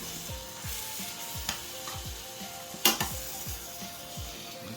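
Beef sizzles in a hot pan as pieces are added a few at a time, a soft, steady hiss with repeated low thumps and clinks from a utensil, one sharp scrape near the middle, close and quiet, with no voices.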